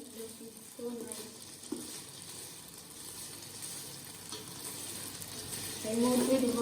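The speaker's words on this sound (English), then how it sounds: "now we are frying chicken" Chicken frying in a pan for a fried rice dish, giving a steady close sizzle with stirring scrapes throughout and a louder burst of hot crackle near the end.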